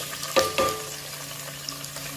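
One onion dropped into hot oil in a pot for Kolhapuri mutton, giving a couple of quick, sharp bursts of sizzle and clatter, then a steady, moderate frying hiss close by.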